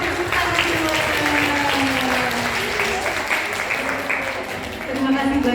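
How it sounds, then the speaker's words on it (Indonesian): Audience applause at a school parenting session on puberty for fifth-grade families, steady dense clapping from a seated crowd throughout, with a voice speaking over it near the end. "Oke, mari kita beri tepuk tangan semuanya."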